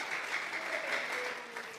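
A church congregation claps as an offering of praise to God, a soft, even wash of applause heard at some distance, steady and unbroken for the brief moment.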